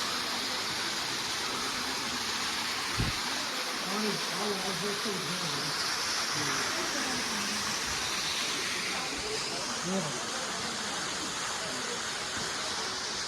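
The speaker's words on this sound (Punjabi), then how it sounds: "ਬਹੁਤ ਘਟਿਆ ਆ ਝਰਨਾ" A waterfall at McLeod Ganj near Dharamshala in Himachal Pradesh, running low, gives a steady broadband rush throughout while people talk over it.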